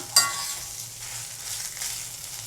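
Potatoes fry in a pan for aloo sagu cooked without onion or garlic, a soft steady sizzle after a sharp clink at the start, with faint stirring, close and fairly quiet, nobody talking.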